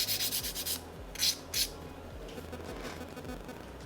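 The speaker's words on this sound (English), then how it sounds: "I'm also filing the top of the tip" A nail file rubs quickly back and forth across the top of an artificial nail tip, giving soft, close, rhythmic scratchy strokes with a few sharper passes, and no talk.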